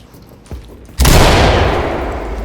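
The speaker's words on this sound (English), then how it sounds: "Move in, bang the room and clear." In the tactical shooter game Ready or Not, a flashbang is thrown into a room: a faint thump, then a sudden loud, sharp bang that rings out and slowly decays.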